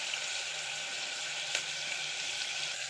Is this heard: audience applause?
no